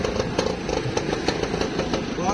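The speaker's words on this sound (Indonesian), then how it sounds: "Nah, sekali starter langsung nyala ini. Digas, Mas." A 1961 Lambretta Li 150cc scooter engine runs close by with a rapid, pulsing two-stroke beat and small rises as it is revved, while voices talk over it.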